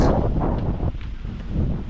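Steady, blustery monsoon wind roars into the microphone with low rumbling buffets, continuous and fairly loud throughout.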